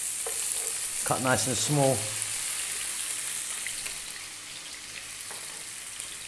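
One chopped onion frying generously in olive oil, cooked for patatas bravas: a steady bright hiss of sizzling oil runs throughout, with a brief spoken phrase near the start.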